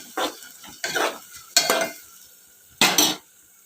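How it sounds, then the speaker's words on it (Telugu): Green chillies, curry leaves and onion frying in hot oil, four separate bursts of stirring and sizzling with a spoon scraping the pan, close, with quiet gaps between. "ఆయిల్ అయితే వేడెక్కిందండి ఇప్పుడు పచ్చిమిరపకాయలు కరివేపాకు ఉల్లిపాయ అయితే వేసేసుకున్నాం"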